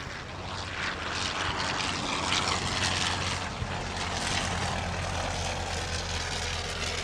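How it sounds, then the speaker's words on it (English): A Sopwith Camel propeller biplane drones steadily overhead at an airshow as it finishes its display, the engine note holding loud and continuous throughout with no voices. "As the Camel ends its display, you'll see one of those lovely sweeping top sides that this unique venue permits."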